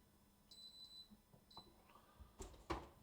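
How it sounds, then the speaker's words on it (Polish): Electronic oven beeping after a loaf of lumberjack-style bread finishes baking, a few short faint high-pitched beeps at intervals in a quiet kitchen, followed by louder clatter and handling noises near the end. "Dobra, wyłączę tutaj Zaraz będzie pikać."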